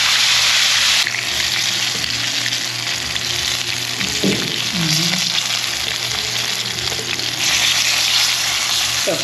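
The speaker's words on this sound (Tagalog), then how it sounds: "Kailangan masarap dito sa espada yung prito." Steady, loud sizzling of espada (beltfish) frying in hot oil, with occasional clinks and stirring sounds, no talk.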